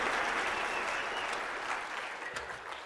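Audience applause at a speaking event, a steady dense wash of clapping from a crowd, loud and sustained throughout before easing slightly near the end.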